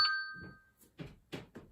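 A single phone notification chime rings out at the start, a bright ding that fades quickly, followed by soft breathing and faint movement sounds in a quiet exercise room.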